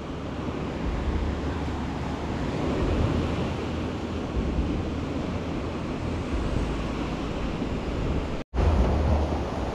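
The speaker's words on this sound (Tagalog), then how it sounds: "malakas yung alon" Strong sea waves surge and break continuously at a rocky beach in Bani, Pangasinan, a loud, steady roar with wind buffeting the microphone and a brief cut near the end.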